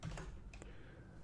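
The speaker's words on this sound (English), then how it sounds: "So if we hit Control G" Keys clacking on a computer keyboard as a Control G shortcut is pressed, a quick pair of close, crisp taps over quiet room tone.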